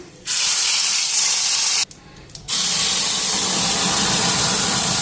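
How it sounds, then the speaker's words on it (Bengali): Cumin seeds and bay leaves hit hot oil for tempering, setting off a loud, close, hissing sizzle that cuts out briefly partway through and then surges back steadily. "জিরা আরও তেজপাতা ফোড়ন দেবো"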